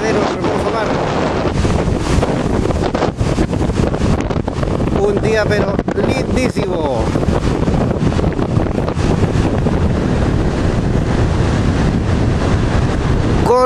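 Strong wind buffets the microphone on coastal cliffs above the sea at Lipimávida in Chile's Maule region, a loud continuous roar throughout, with a person speaking briefly over it.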